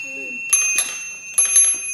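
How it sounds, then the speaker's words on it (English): Small bells on a Saratov garmoshka accordion ring in two short pairs of bright strikes, fairly close and clear, following a brief low tone. "The speciality of this garmoshka are two little bells on the left-hand side"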